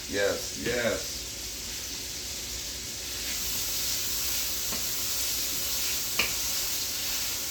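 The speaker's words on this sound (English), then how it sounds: "And you're gonna let that saute. I'm using minced garlic." Minced garlic sautés in a pan for a Cajun chicken dish, giving a steady close sizzle and hiss. A few brief stirring scrapes follow a short burst of talk at the start.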